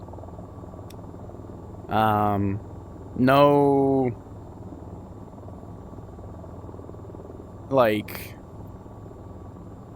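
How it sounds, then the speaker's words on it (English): A damaged helicopter with a blade tip missing, flying in the VTOL VR game, gives a steady low rotor and engine drone beneath a man's brief speech. "the helicopter seems to be flying relatively fine"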